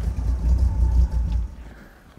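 A deep, throaty Ford hot rod exhaust rumbles steadily up close, a low idle that swells briefly and then drops off and quiets.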